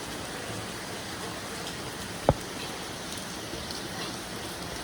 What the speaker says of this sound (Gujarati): વરસાદ એટલો બધો પડ્યો છે અત્યારે